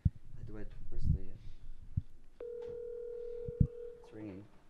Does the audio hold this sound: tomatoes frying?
no